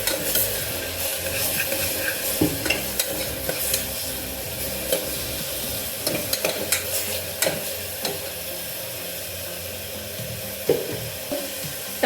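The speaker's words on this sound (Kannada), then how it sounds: "ಮಸಾಲ ಹಸಿ ವಾಸನೆ ಹೋಗೋ ತನಕ ಸ್ವಲ್ಪ ಬಿಸಿ ಮಾಡೋಣ" Masala sizzles in a hot pan for millet pulao while a spoon stirs it, with continuous frying crackle and frequent scraping clicks, close and fairly loud, with no talking.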